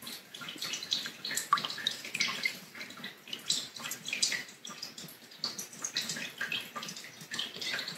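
Water runs from a tap and splashes faintly during hair washing with a loc detox treatment, a soft steady spatter with uneven droplet patter.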